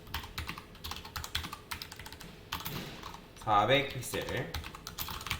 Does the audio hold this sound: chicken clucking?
no